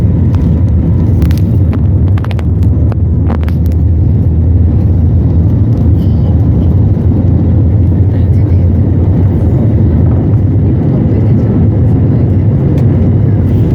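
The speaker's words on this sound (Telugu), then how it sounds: "ఫ్లైట్ ఇప్పుడు టేక్ ఆఫ్ అయిపోయింది రన్వే నుంచి." Loud, steady roar of a jet airplane taking off, a dense low rumble heard from inside the cabin, with a few brief clicks early on.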